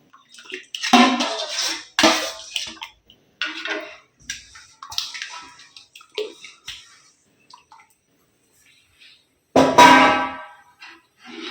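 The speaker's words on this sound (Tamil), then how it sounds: "நம்ம கரைச்சின மாவை அப்படியே ஊற்றிடுவோம்." Kanji vathal batter, a rice-flour mix, pours into boiling water in a home kitchen in several short, splashy bursts separated by near silence, ending with one stronger gush.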